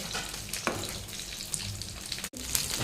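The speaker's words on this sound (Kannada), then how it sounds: "ಇದಕ್ಕೆ ನಾನೊಂದು ಒಗ್ಗರಣೆಯನ್ನು ಹಾಕ್ತೇನೆ" A tempering of mustard seeds, garlic and curry leaves in hot oil gives a dense, continuous close sizzle with faint crackles and a brief sharp break near the end. Nobody speaks.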